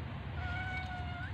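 A pregnant cat gives one long, drawn-out meow that rises slightly at the end, heard alone at a moderate distance over a low background rumble.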